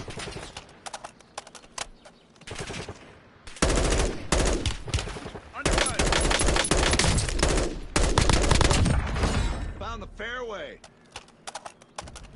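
Call of Duty combat erupts into long, loud sustained bursts of automatic gunfire, separated by short gaps of quieter game noise, and finishes with a brief stretch of lighter sounds.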